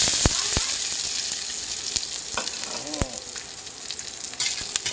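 Noodles sizzle loudly stir-frying in hot oil and garlic fat while a utensil scrapes and stirs, with a few sharp clinks against the pan.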